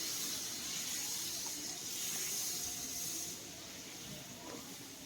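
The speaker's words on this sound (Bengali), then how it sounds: "এখন আলুটাকে একটু ভালো করে ভেজে নেব।" Potato pieces with a little turmeric fry in hot oil, giving a soft, continuous sizzle and hiss that eases slightly toward the end.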